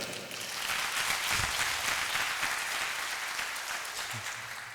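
Listeners at a wellness certification course introduction break into dense, sustained applause that swells quickly and holds steady for several seconds before easing slightly.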